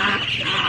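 Many ducks kept at a farmhouse quack loudly and close by in a dense overlapping chorus, a short burst of harsh nasal calls.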